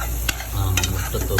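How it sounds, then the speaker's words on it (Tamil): Egg is stirred and fried in a hot pan for an Arabian-style egg fry, a brief burst of close sizzling with quick spatula scrapes and taps. "முட்டையை போட்டு அப்படியே ஒரு கிண்டி போட்டு எடுத்துடணும்"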